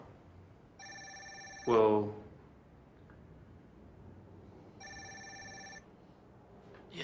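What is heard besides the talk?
mobile phone ringing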